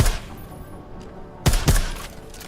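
Suppressed gunfire in a first-person video game: a few scattered muffled shots, then two quick louder bursts close together, with a soft hiss between them.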